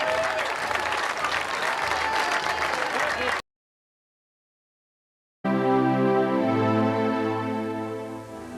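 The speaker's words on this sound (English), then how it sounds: "Give them a nice round of applause, each and every one of them" Crowd applauding a local pikemen crew at a 1998 bicentenary commemoration, steady clapping for about three seconds, then a gap of silence, followed by a sustained tonal musical passage.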